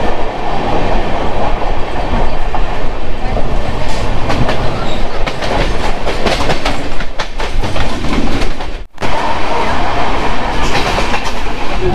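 Sealdah–Balurghat express train running, heard from the open coach door: a loud, continuous roar of wheels and rushing air with clickety-clack rhythm throughout, and a brief dip near the end.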